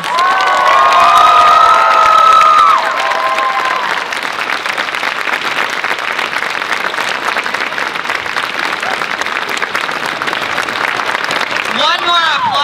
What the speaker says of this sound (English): Please give all the winners of the 2018 Anime Iowa Masquerade Show one final big round of applause.